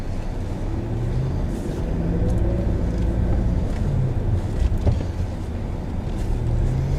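A 2013 Hyundai Elantra compact sedan cruises along a road, its steady engine hum and tire-and-road rumble filling the cabin evenly, with no one speaking.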